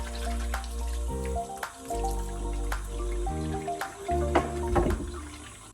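Freshly harvested carrots washed under running water, steady flowing stream with tonal gurgling and intermittent splashes and drips as the carrots are handled, close and alone.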